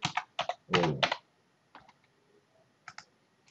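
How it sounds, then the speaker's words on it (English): Keys clatter on a computer keyboard as a new program name is typed on a J robot controller pendant, in a few quick bursts of clicks followed by sparse single taps, close and clear with no voices. "And then let's write a new program name, Ray."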